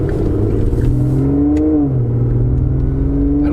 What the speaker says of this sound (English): V12 from Aston Martin.